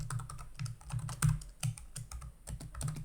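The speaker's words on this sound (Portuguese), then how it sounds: "tô errando a digitação, que é uma beleza hoje, hein?" Quick, irregular keystrokes on a computer keyboard, close and fairly quiet, with clicks coming several per second and one slightly heavier key press partway through; no talk.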